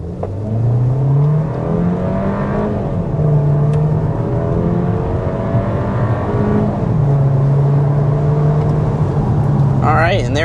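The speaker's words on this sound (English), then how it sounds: "there was a 60-mile-an-hour acceleration here in the refreshed Volkswagen Taos" The engine of a refreshed 2025 Volkswagen Taos drones loudly from inside the cabin as the SUV accelerates to 60 mph, its pitch climbing steadily, dropping at each gear shift, then climbing again.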